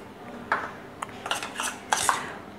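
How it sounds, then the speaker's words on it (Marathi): Egg, cornflour and flour being stirred together into a marinade for fried chicken, with a spoon or whisk clinking and scraping against a bowl in several short, sharp taps and rubs. "हे मी चांगलं एकत्र मिक्स करून घेतो"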